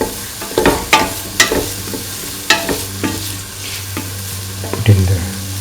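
A utensil stirring and frying tofu rice with green chili in a pan, with irregular scraping strokes and clacks over a steady low sizzle, close and fairly loud.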